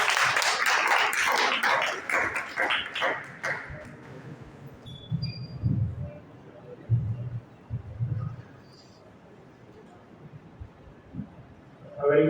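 A Hindi Diwas celebration audience breaks into loud, dense applause that fills the first few seconds, then fades away while low voices and scattered background sounds carry on.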